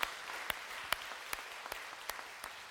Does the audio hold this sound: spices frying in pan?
no